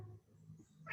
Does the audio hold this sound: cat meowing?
yes